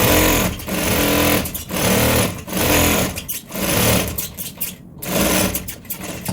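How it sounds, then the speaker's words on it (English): A sewing machine runs in loud close bursts while sewing loose gathering stitches on fabric, its rapid mechanical whir starting and stopping roughly every second in a steady rhythm. "You can see that the sound is different because we are working on loose stitches"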